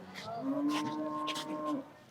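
A cow at a cattle market lows once in a drawn-out moo lasting nearly two seconds, fairly near, with faint background chatter from people around.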